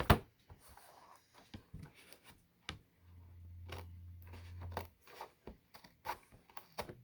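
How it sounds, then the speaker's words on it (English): Scissors snipping through packaging tape on the box of a Microsoft Signature keyboard cover, a scatter of small dry clicks and cuts with a brief low buzzing hum in the middle, close and quiet. "we're just gonna have to cut this tape right here"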